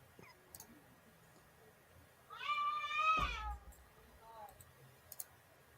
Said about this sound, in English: that sounded like a pissed off cat